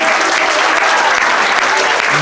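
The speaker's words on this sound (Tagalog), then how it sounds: "Palakpak po tayo sa Panginoon." A church congregation claps together in steady, dense applause, loud and close, filling the whole moment without pause.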